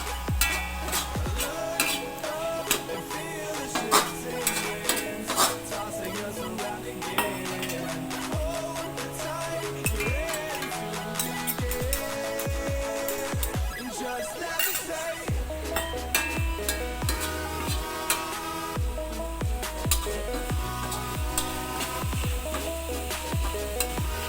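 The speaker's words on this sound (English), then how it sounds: "Mix it well." Sweet leaves and fish curry stirred in a pan: repeated scraping strokes of a spoon against the metal under a steady low sizzle, close and fairly loud, with no talking.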